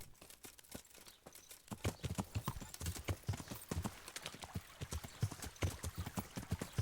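Horse hooves clip-clop steadily in a rhythmic walking gait in the medieval game Kingdom Come Deliverance, close and fairly loud, continuing alone throughout.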